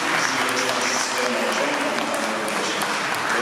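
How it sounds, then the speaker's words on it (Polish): An audience at a royal music festival applauds steadily, dense clapping holding at an even level with a voice faintly underneath. "Jeszcze raz wielkie brawa dla Pana Dariusza i dla całego koła e, Łowieckiego Ryć."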